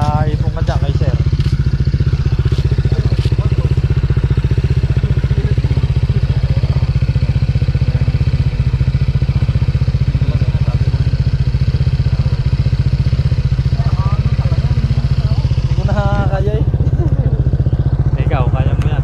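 A motorcycle engine runs steadily and fairly close throughout, a constant low rumble with occasional faint voices in the background.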